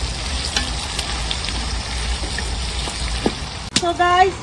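Onions and red chili frying in a pan and being stirred, a continuous sizzle with scraping stirs, then a sharp clatter and a brief tonal squeak near the end.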